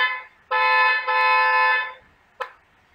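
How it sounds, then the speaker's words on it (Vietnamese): A car horn honks in loud harmonic blasts: a short toot, a longer sustained blare with a brief dip, then one quick final tap, alone with no talk. "Đó là tiếng còi của xe ô tô."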